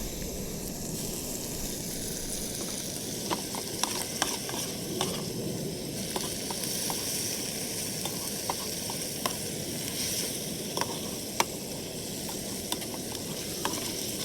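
Potato hash sizzling steadily in a pan, a constant dense fizz with occasional small crackles and taps, close and moderately quiet, no voices.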